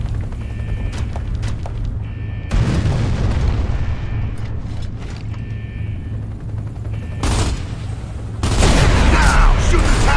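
Video game combat in an ambush: bursts of gunfire and booming fuel tank explosions, with heavy, dense blasts standing out around a few points, under shouted voices.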